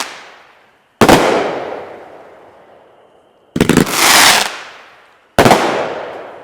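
A Fat Frankie firework cake fires in a loud close barrage: three sharp bursts, each trailing off in a long crackling decay, with the middle burst a sustained rough roar.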